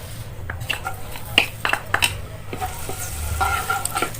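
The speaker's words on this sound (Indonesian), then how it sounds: "Tumis sampai harum." Two cloves of minced garlic sauté in a pan with a moderate sizzle, broken by metallic scrapes and clinks of a utensil stirring against the pan.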